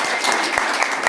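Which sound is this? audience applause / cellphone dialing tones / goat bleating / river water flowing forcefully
audience applause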